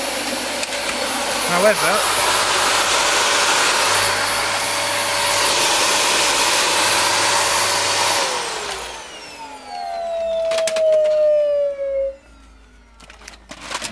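Dyson vacuum cleaner, a DC14 or DC25, running loud and steady with a high whine for about eight seconds, then winding down as it switches off, followed by clicks and a brief voice.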